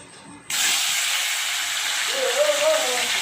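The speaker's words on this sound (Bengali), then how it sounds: "তেলটা কিন্তু গরম হয়ে গেছে এবার মাছগুলো আমি ভেজে নিচ্ছি" Fish dropped into hot oil in a karai erupts into sudden, loud sizzling after a brief quiet moment, then holds as a steady, close hiss.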